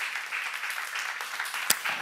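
Audience applause during a church seminar, a steady patter of clapping with one sharp, distinct clap standing out near the end.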